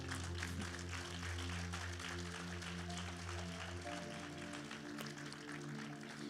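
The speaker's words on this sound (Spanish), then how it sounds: "dale un aplauso al Señor." A church congregation applauds during a sermon, dense clapping spread evenly over a steady low musical hum, fairly loud and continuous throughout.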